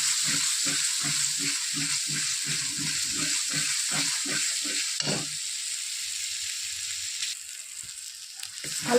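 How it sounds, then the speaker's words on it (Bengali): Spices and green peas fry in a pan with a little added water, giving a steady close sizzle with rhythmic stirring scrapes during the first half, then a softer continuous hiss. "এবার ভালো মতো কষিয়ে নেব। সামান্য পরিমাণ একটু জল দিয়ে দেবো যাতে তলায় না ধরে যায়।"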